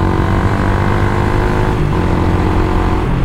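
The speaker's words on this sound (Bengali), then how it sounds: "কেমন লাগলো তোমাদের এক্সজস্টের সাউন্ডটা তোমরা জানাও ভাই" Motorcycle fitted with a new aftermarket exhaust, a loud, close, continuous engine drone with a deep rumbling note held steadily throughout, no talking.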